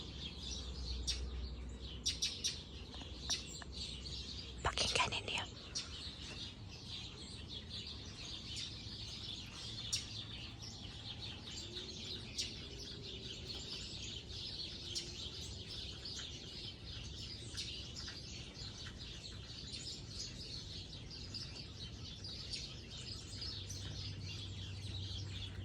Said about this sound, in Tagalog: Pakinggan natin yung ibon. Ang daming ibon, guys.